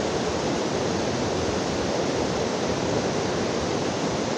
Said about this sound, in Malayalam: ഇത്രയും ഫോഴ്സിലാണ് അവിടെ വെള്ളം വീഴുന്നത്